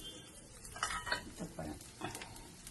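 Ginger and garlic frying in oil for a lemon and dates pickle, a soft sizzle under scraping stirs and a few utensil clinks against the pan, close and intermittent.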